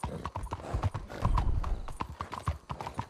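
A horse trotting in Red Dead Redemption 2, its hooves clip-clopping in a steady, fairly close rhythm with a brief whinny, no talking over it.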